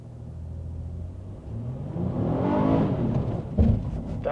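A 2024 Honda Ridgeline TrailSport stuck in mud gives a low engine rumble that swells into a sustained revving drone as the tires slip, with a brief knock near the end.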